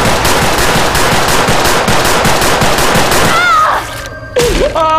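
Rapid automatic gunfire from Left 4 Dead 2 rattles loud and continuous for about three seconds, then cuts off, leaving a few thin electronic tones and a short metallic whine.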